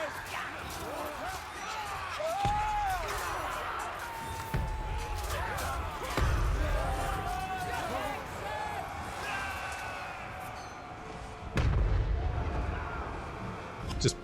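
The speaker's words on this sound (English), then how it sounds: "A little bit of cannon fire there" Cannon fire booms in a Total War: Warhammer 3 battle, several deep thuds spaced irregularly among clashing battle noise, with a voice speaking over it.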